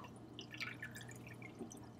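Water drips through an aquarium siphon after an Apex solenoid valve opens, faint, irregular droplet plinks over a steady low hum, heard alone.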